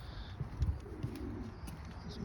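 Pigeons in a young bird coop give soft, low cooing calls, a few short coos rising over a steady ambient background at moderate distance, with no talking.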